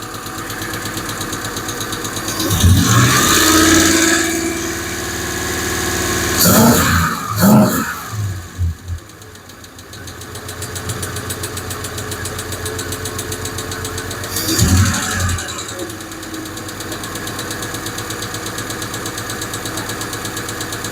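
An idling engine with a faulty lifter keeps up a steady, fast mechanical ticking over its running drone, up close and loud throughout, with a few brief louder bursts breaking in along the way.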